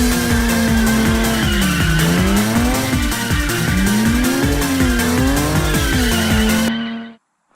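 A freshly engine-swapped BMW E36 drifts on a track, its engine revving up and down in waves beneath continuous loud tire squeal, close and unbroken until the sound cuts off abruptly near the end.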